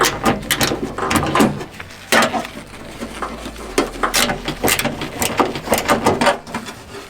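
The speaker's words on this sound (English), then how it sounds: "I'm just gonna use the socket wrench to do it easier." A socket wrench ratchets on a taillight bolt of a 2024 Tesla Model Y, close and loud, with repeated clicking bursts of turning strokes separated by brief pauses.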